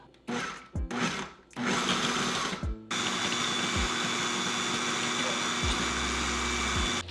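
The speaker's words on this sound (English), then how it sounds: "Blend all the ingredients until smooth and creamy, scraping down the sides of the blender as needed" A blender whirs in several short pulses, then runs loud and steady for a long stretch, close by with a high motor whine.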